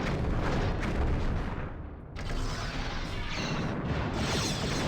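The starship Enterprise fires its weapons in a Star Trek starship battle video game, loud booming blasts and rumbling impacts rolling on continuously, with a brief dip before the barrage resumes.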